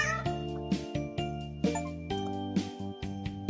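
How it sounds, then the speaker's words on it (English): Inside a cat cafe video game, a cat gives a few short cute meows over soft, steady tinkling game music at low volume. "Are you telling me there's cats in here? Okay. I guess so. Oh, there we are. And it makes a cute sound."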